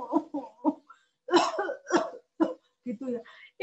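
A child's coughing is told in a story, with a string of short, sharp coughs, several bursts spaced by brief pauses, close and fairly loud, which a voice imitates.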